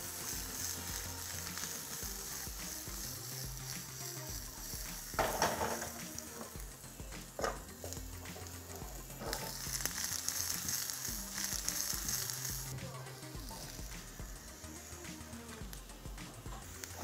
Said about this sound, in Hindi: लाइटली सौते करना है, सब्जी को पूरा नहीं पकाना